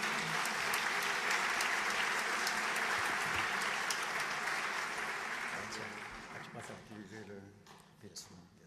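Gala audience at a foundation's tenth-anniversary dinner applauds in a full, sustained wave that fades out over the last few seconds as voices and room sounds take over.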